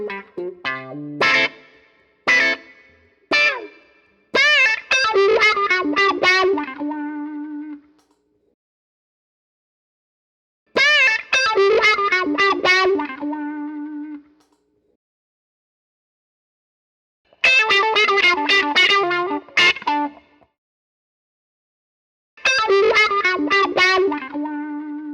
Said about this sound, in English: let's compare that to an off-the-shelf Dunlop Crybaby